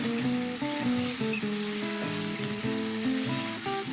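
Goat meat, pre-cooked until half done, simmering in black pepper sauce in a pan over medium heat, giving a steady close sizzle and bubbling with a continuous tonal background sound running through it.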